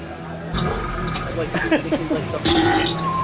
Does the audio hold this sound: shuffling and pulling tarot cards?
no